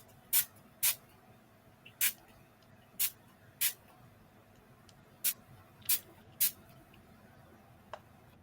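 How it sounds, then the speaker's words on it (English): Short sharp hisses from a spray bottle misting a painted craft project, about eight separate bursts at uneven intervals over quiet background, close to the microphone, with no speech. "see one too many sprays on that, Dana"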